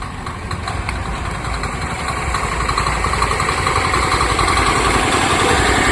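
A 5 hp Indian Agro power tiller (mini tractor) engine runs steadily while the machine turns in place, a loud continuous close-up chug with a dense low rumble that holds even throughout.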